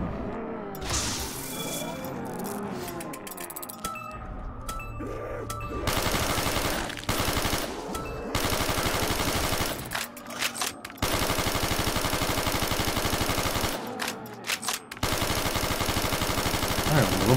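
Continuous gunfire in a Black Ops III custom zombies map, long sustained automatic bursts, loud and close, with brief pauses between strings of shots.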